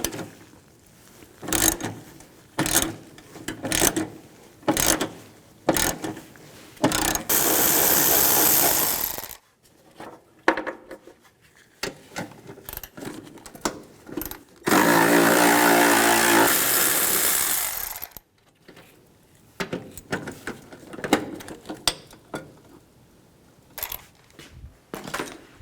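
Ratcheting socket wrench with a 13mm socket backing out the four battery tray bolts on a Ford E-250 van, heard as bursts of quick clicking taps separated by pauses, plus two longer steady stretches of mechanical noise.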